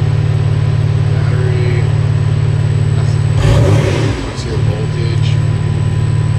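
A BMW M3 engine drones steadily at close range with a strong low hum, then swells briefly in a short rev surge midway before settling back to an even idle.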